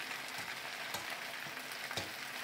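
Meat sautéing in a frying pan for homemade kebab gives a steady, dense sizzle with scattered crackles and pops, close and continuous, with no voices.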